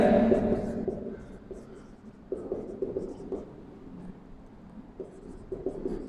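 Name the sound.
writing on a board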